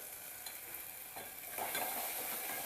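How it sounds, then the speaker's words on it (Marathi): Onion-garlic masala stirred and frying in a pan for a chicken dish, a soft steady sizzle with scraping stir strokes that grows slightly louder partway through, no talking. "मसाला परतल्यानंतर आपण हे जे कांदा लसूण मसाला घेतलेला आहे ना तो घालूया"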